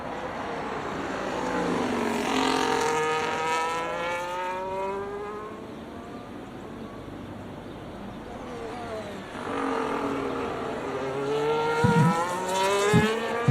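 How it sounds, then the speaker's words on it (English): A Williams FW47 Formula 1 car engine in an F1 25 game replay, revving up and down as it passes, loud and sustained with shifting pitch sweeps and a second surge of acceleration near the end. "definitely the engine sound in the replay sound much better and much more synchronization"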